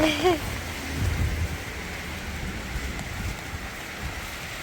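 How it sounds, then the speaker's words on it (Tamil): Heavy rain pours outdoors on a windy, stormy day in New Zealand, a steady close hiss of drops, with a voice heard briefly at the start. "நல்லா மழை அடிக்குது"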